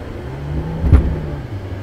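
An Audi sedan accelerating hard on a beach, with a steady engine drone that builds briefly into a louder surge, close and without speech.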